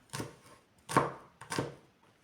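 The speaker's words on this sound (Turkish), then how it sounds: "İki tane de sarımsak doğrayacağım." Three firm knife chops through garlic on a cutting board, evenly spaced and close up, with no talking.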